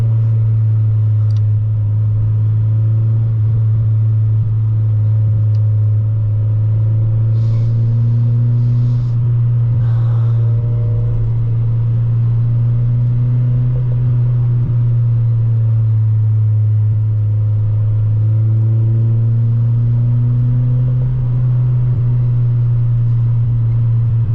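A Mazda Miata NB2 with a 6-speed manual drones steadily from inside the cabin as the engine hums loudly and evenly through gentle downshifts, with small shifts in pitch and no speech.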